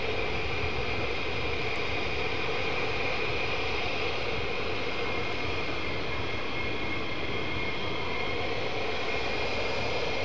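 A military jet taking off at RAF Lakenheath roars continuously at a loud, even level, with a broad engine wash that holds steady with no pauses.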